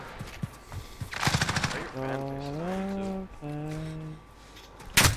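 Gunfire from a SCAR rifle in Call of Duty Modern Warfare: a couple of sharp, loud shot bursts, one early and one at the very end, with a steady tonal sound and faint background noise between them.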